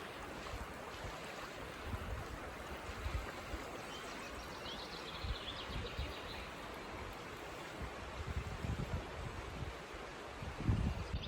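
Steady broadband rush of a flowing stream on the Milford Track in New Zealand, continuous and fairly close, with a faint bird call partway through and a soft thump near the end.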